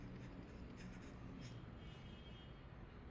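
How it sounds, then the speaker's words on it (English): A pen writes notes on a board during a graph theory lecture, a faint scratching of short strokes over a steady low room hum. "Let me write everything down."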